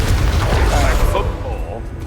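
A Confringo blasting curse goes off in the Hogwarts Legacy game, a loud booming explosion with rumbling low end that fills most of the clip, mixed with game voices and effects.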